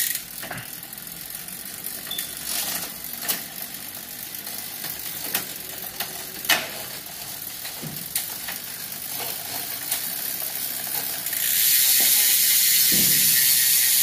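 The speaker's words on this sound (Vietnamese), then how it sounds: "nó có một cái tiếng lổ nó lách tách nghe rất là êm tai" Rapid ratchet-and-pawl clicking from the freehub of a MOSSO 2670TB mountain bike, a fast, fairly soft ticking held close and steady throughout, with a few sharper clacks and no talk.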